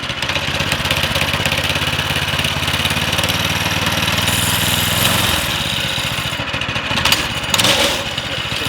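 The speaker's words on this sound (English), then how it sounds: "Since Tyler haven't had the joy to taking a cruise on the new go-kart, it's time for him to take a ride." A small go-kart engine runs steadily at close range, a loud continuous mechanical drone whose pitch shifts around the midpoint as the throttle changes, with a brief louder burst near the end.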